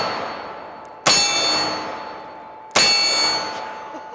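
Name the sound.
500 Magnum revolver bullets clanging on a steel target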